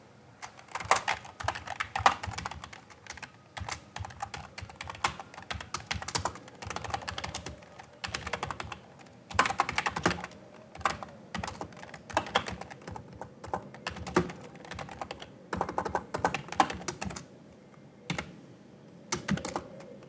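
Someone types on a computer keyboard up close while writing a C++ program, giving irregular bursts of clacking keystrokes with short pauses between runs. No voices are heard.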